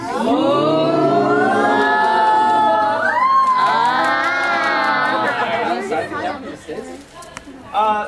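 A tour group at a Mystery Spot attraction lets out overlapping rising and falling exclamations and chatter, loud and close, before settling into scattered talk.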